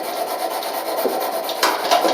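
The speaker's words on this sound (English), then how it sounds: "We're just going to start polishing this thing with this sand cloth." Plumber's emery cloth rubbed back and forth around a Whirlpool dryer drum shaft during a drum roller repair, a steady close-up rasping friction with no speech.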